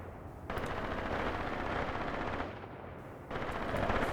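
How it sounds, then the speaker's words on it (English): Machine-gun fire in the Graviteam Tactics war game: two sustained rattling bursts at moderate distance, the first lasting about two seconds, a short pause, then another burst starting up. "They're immediately getting shot at."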